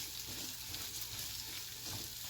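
Beef and garlic fry in a pan with a dense, constant sizzle and spatter. The sound is close and even, with occasional stirring scrapes and no voices.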